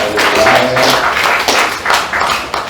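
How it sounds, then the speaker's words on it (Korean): Church congregation clapping together during a Sunday worship service, a steady, dense wash of applause filling the sanctuary from start to finish. "우리 하나님께 영광의 박수 드립니다"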